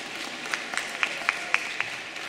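A handful of sparse, evenly spaced claps ring out at a Lenten youth retreat in a church, faint and thin rather than full applause, about six distinct hand claps over a quiet room.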